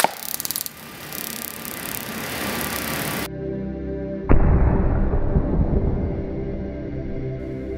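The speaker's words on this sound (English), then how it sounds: "now we're gonna get a front-on shot of the taser being fired" A taser is fired front-on, with a few brief crackling ticks and a hissing stretch, then a sharp, loud pop followed by a lingering noisy decay.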